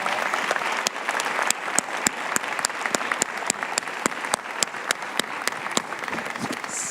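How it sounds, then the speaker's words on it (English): An audience at an immigrant integration summit gives a sustained round of applause, a steady dense wash of clapping with sharp individual claps standing out, heard alone without talk. "So please put your hands together and give these three a round of applause"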